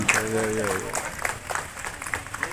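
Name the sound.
applause for the faculty teams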